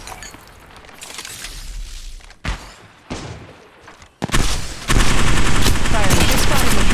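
Gunfire in the mobile shooter game Apex Legends Mobile: a couple of isolated sharp shots and a heavy thud are followed by a loud, sustained close-range automatic burst that runs to the end.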